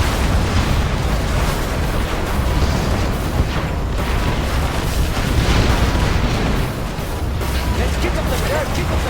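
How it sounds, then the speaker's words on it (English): Rocket barrage explosions from the Command & Conquer Generals Zero Hour real-time strategy game, a dense, loud, continuous rumble of blasts and booms overlapping with in-game voice lines. "Our land is being Rocket attacked!"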